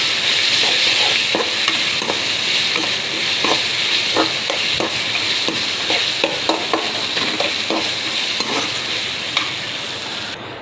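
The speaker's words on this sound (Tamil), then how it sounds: "இந்த தக்காளியும் கொஞ்சம் நல்லா வதங்கட்டும்." Chopped onion and tomato sauté in a pan for an eral pepper fry, giving a steady close sizzle broken by repeated scraping stirs of a spoon against the pan.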